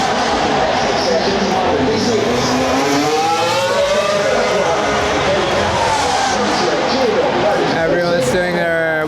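Formula 1 cars scream past on a warm-up lap during qualifying at Monza, their high engine notes rising and falling one after another over a loud, dense crowd din, with a voice talking underneath.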